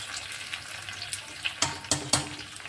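Curry leaves and coriander fry in a pan with a soft crackling sizzle, then several sharp, loud pops and spits burst out in quick succession near the end.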